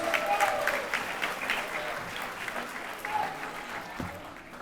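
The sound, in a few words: audience applause at a graduation ceremony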